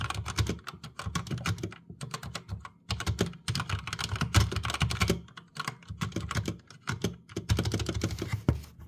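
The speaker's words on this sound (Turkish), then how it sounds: "Ses testi yapayım bir de yanına koyup." Rapid clacky keystrokes on a GamePower Suki TKL mechanical keyboard with black switches, typed in quick bursts with short pauses, close and crisp, with no talking.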